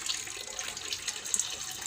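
Liquid poured into catfish pond water over a floating basket, a close, continuous trickling and splashing pour with faint bubbling, alone.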